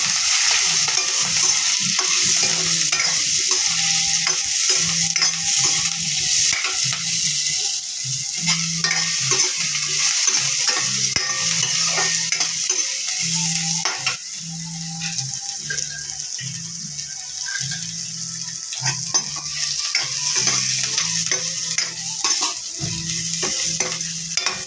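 Onions or aromatics frying in a pan until brown for a ridge gourd milk curry, with a steady loud sizzle throughout and repeated stirring scrapes in an even rhythm, close up, no talk.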